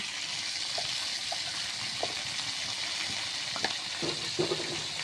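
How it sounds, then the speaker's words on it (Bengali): Spices with salt and turmeric sautéing in a pan give a steady hissing sizzle, punctuated by occasional scraping stir strokes and clinks that grow more frequent toward the end. "এখন আমার মশলা কষানো হয়ে গেছে"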